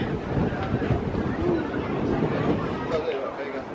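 Wind gusts buffet the microphone in a steady rumbling roar near the Scott Monument in Edinburgh, Scotland, with a murmur of distant voices underneath.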